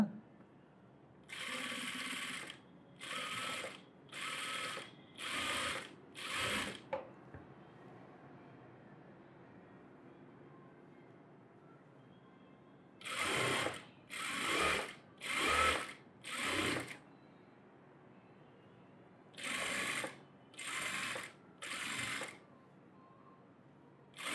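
A sewing machine stitching a net model blouse runs in repeated short bursts of rapid whirring, three groups of separate runs with quiet pauses between, close and clear, with no talking.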